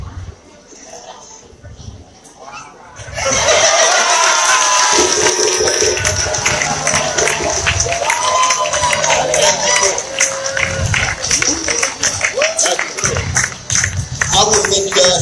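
A loud crowd at a Kwanzaa celebration for children erupts in sustained cheering, shouting and applause that starts a few seconds in and carries on steadily to the end, with voices mixed throughout.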